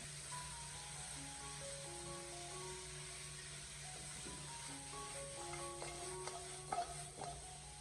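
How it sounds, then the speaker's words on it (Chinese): Braised chicken feet stir-fried in a wok over medium heat, a faint, steady sizzle and hiss with light tossing noises, sitting beneath soft background music and growing slightly busier toward the end. "将它快速的翻炒一下，把鸡脚给它炒出香味"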